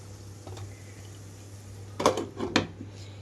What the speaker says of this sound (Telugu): మూత పెట్టేస్తున్నాను ఇప్పుడు.